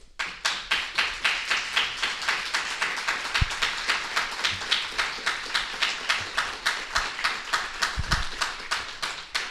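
Rhythmic clapping from a lecture audience, steady, fairly close and moderately loud, with a few sharper taps and knocks mixed in and no talking.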